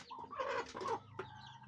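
Village hens cluck in a short burst of several close, loud calls, with a final brief cluck after a pause.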